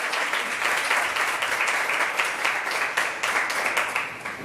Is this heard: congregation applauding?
yes